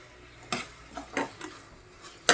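Tomatoes sauté in a pan as a utensil stirs them, with a handful of scattered scraping knocks over a soft background sizzle.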